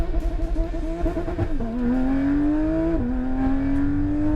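A Porsche GT3 race car accelerates hard on a track, its loud, close engine note rising steadily in pitch with two quick dips at upshifts before climbing again.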